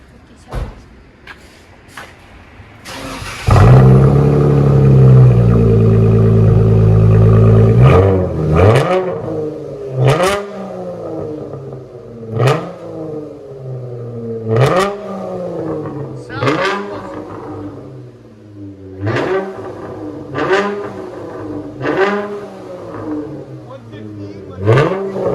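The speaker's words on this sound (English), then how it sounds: "Those DYNOMAX bullets, man, give it a really nice deep tone. It doesn't really sound like a V6 no more." A Dodge Challenger 3.6L V6 with DYNOMAX bullet exhaust starts with a loud deep roar, then blips the throttle in a series of short revs that rise and fall at steady intervals, close and prominent.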